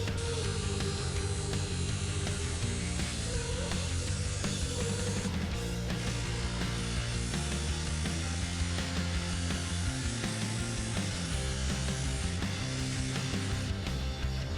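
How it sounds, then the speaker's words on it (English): A buffing wheel loaded with black rouge polishes a Stanley Handyman adjustable wrench, giving a steady, fairly quiet motor hum and rubbing drone that runs unbroken throughout. "I'm using the black rouge on my buffing wheel to shine this wrench up."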